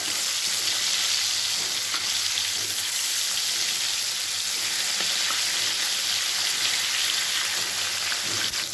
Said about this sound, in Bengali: কড়াইতে মাছগুলো দিয়ে দিলাম